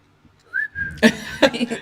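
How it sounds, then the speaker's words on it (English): Someone whistles a short, clear rising note, then voices talk and laugh over it; the whistle is brief and close. "you can whistle really well."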